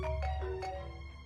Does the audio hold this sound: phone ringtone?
yes